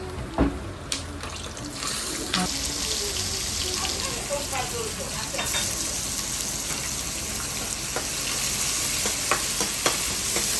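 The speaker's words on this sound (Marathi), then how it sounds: "शेंगदाण्याची कच्ची असल्यामुळे चांगले परतून घ्यावे लागतात, नाही तर कच्चे राहतात." Raw peanuts and onion sauté in a hot pan, a steady loud sizzle with scraping stirs throughout and occasional clinks, no talk over it.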